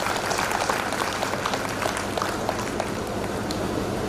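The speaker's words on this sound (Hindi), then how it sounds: "ताली बजाए खुद के लिए।" An audience at a stress-relief programme in Srinagar Garhwal, Uttarakhand, claps steadily in a dense, continuous wash of applause, fairly near and without a break.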